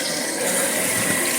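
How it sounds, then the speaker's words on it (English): Water rushes steadily and close by, a dense hiss of an American Standard Champion toilet tank refilling after a flush valve replacement, with no voices. "we're going to turn on the water"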